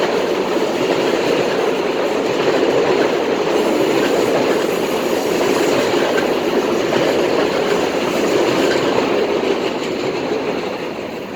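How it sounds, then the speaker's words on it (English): Train rolling past on the rails, a loud continuous rumble with rhythmic clickety-clack and faint wheel squeal, holding steady and easing slightly at the end. "This train's coming back to back now"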